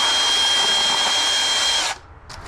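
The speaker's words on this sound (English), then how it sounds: "The bandsaw" A bandsaw runs in a plumbing workshop, a steady loud whine with a constant high tone that cuts off abruptly near the end, leaving near silence.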